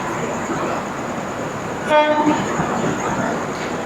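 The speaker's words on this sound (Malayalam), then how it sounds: "അവിടെ നിന്ന് ഒരു ട്രെയിൻ വരുന്നുണ്ട്." A Mumbai local train approaches platform 5 at a busy suburban station, heard as a steady rumbling wash with a brief harmonic horn-like tone midway, fairly close and loud throughout.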